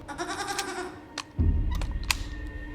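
Goats bleating in the TV show Severance, a wavering harmonic bleat up front, then a rumbling low background with scattered sharp clicks, moderately loud with no talk.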